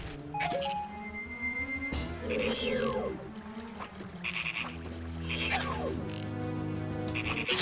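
Frogs croak in the Nintendo game Majora's Mask, a busy loop of warbling calls and rising chirps layered over game music, steady and fairly loud throughout with no talking.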